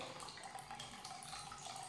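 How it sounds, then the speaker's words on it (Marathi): Water pours steadily into a pot of dal, a soft continuous running stream heard alone and fairly faint for a couple of seconds. "पाणी थोडंसं जास्तच घालायचं"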